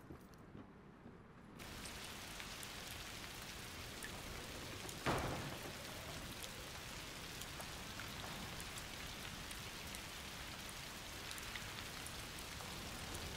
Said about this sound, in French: Il pleut bergère.